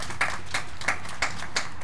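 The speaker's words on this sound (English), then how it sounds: "Let's give them a round of applause." A few sparse hand claps at a historic house grand re-opening, five or so evenly spaced claps over a steady background hum, thin and hesitant rather than full applause.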